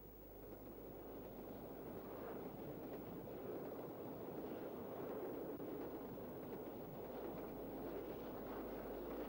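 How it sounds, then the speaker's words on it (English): A train crosses Friargate Bridge heading out of the city, heard as a faint, continuous low rumble and rolling rail noise throughout. "On the train we cross the Friargate Bridge and head northwest out of the city."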